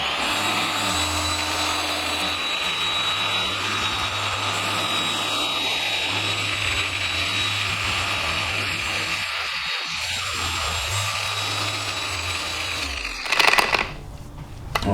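A Chicago Electric 6-inch dual-action polisher runs at close range with a steady, loud motor whine that holds throughout and wavers briefly near the end.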